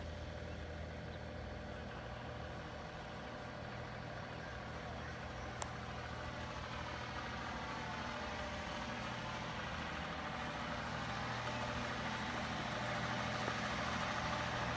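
A tractor engine idles steadily at the end of a residential cul-de-sac, a continuous low rumble with broadband noise that holds evenly throughout, with no talking.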